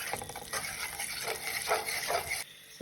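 Curry sizzling and frying in hot oil in a pot while chicken curry is cooked: a steady, bright crackle with some stirring scrapes that runs close and continuous, then drops away near the end.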